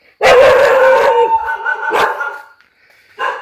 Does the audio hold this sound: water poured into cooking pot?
no